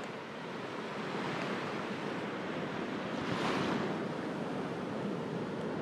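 Ocean surf rolls onto a sunny beach in Margaret River, Perth, making a broad continuous wash with one wave swelling and breaking louder midway. There is light wind buffeting on the microphone and no talking.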